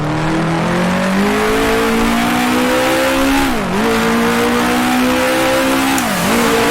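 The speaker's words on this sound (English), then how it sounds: "Down to third gear, down to second" A 1960s Formula One race car on the Monaco street circuit in Grand Prix Legends drops down through the gears. The engine drone falls in pitch twice, each downshift marked by a quick blip before the note settles again. The sound is loud and steady, with no voices.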